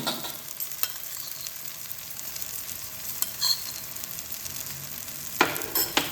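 A spoon stirs coriander bharta with tamarind pulp and sugar in a pan, producing a soft continuous sizzle with scattered scraping clicks and a louder scrape near the end, with no voices.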